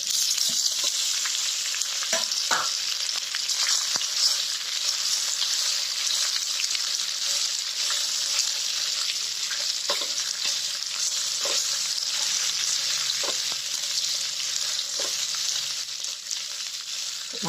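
Cooked semolina is stirred into a hot pan with a steady, loud sizzle that lasts throughout, marked by occasional scraping and clinking of the spoon and no talking.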